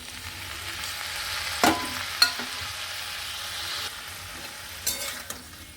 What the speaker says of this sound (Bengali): টমেটোটাকে ভালো করে এর সাথে মিশিয়ে নেব